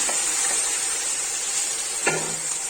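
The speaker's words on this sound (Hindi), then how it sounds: "फिर इसको फ्राई कर लेते हैं।" Afghani chicken gravy frying in oil in a pot gives a steady sizzle throughout, with a brief stirring clink near the end.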